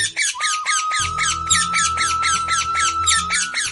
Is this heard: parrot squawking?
yes